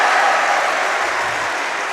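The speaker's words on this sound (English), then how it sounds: "there's a whole lot of cheering there." A basketball crowd at a Division II grand final cheering and clapping after a foul, a dense, loud wash of applause that fades slightly over two seconds.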